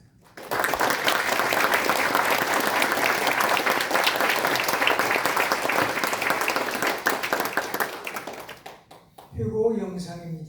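Audience at a national YMCA general assembly in Busan breaks into loud, sustained applause for about eight seconds, then fades out as a voice begins speaking near the end.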